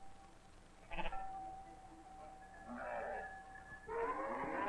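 Sheep and goats being driven up a mountain path to high grassland in Norway bleat several times, a short call and then longer, wavering bleats, moderately close against a faint steady background.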